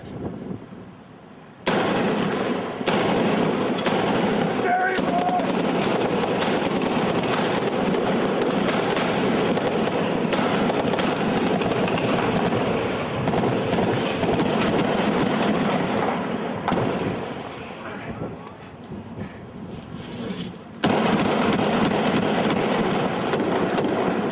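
Blank-firing prop guns on a television drama set let off rapid bursts of gunfire, loud and close, with dense overlapping shots running almost continuously and brief lulls between volleys.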